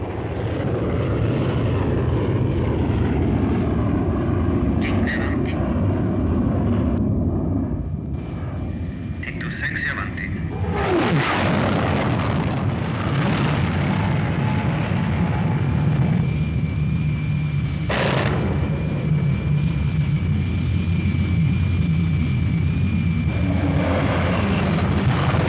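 A Hawker Hunter jet roars past, its engine noise broad and loud throughout with a brief dip and a surging pass midway, while a narrator talks over it.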